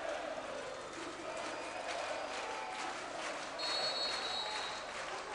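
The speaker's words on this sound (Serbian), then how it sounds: "jedan sjajan poklič navijača" Volleyball fans in the Šumice arena in Belgrade cheer and applaud in a dense, continuous roar after Red Star's championship match point, loud and steady throughout with no pauses.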